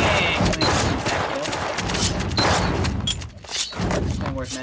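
Rapid gunshots and bursts in a GunZ clan tournament match, loud and dense with overlapping impacts, with a commentator talking over the action throughout.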